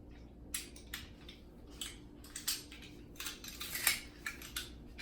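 A metal utensil scrapes minced garlic, about seven or eight cloves, from a container into a marinara pot, making a run of short, close scrapes and light clinks with no talking.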